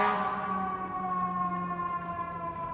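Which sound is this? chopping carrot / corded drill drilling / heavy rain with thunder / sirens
sirens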